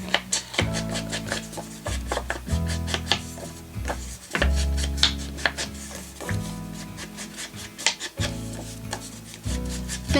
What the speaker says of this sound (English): I'm going to ink the edges of both of these with our Tim Holtz Distress Ink in Walnut stain.